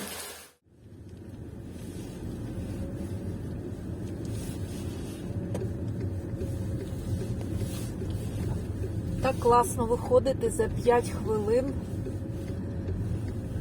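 A car driving, heard from inside the cabin as a low, steady road rumble and engine hum throughout, with someone speaking over it and a brief electronic chirping sound near the end.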